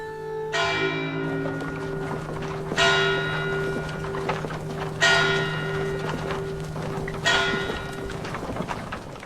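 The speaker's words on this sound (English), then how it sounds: "As the church bells tolled across medieval Cambridge" Church bells toll in a medieval town, four resonant strikes spaced about two seconds apart, each ringing out with a long sustained hum that lingers beneath the next, with no voices.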